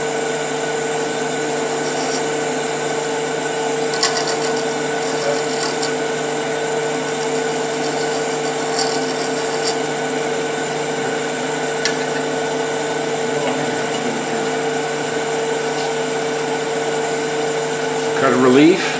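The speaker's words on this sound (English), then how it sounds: "Turn the tenon." A wood lathe turns the tenon of a threaded acorn box, its motor giving a steady droning whine throughout with faint scraping of the cutting tool against the spinning wood.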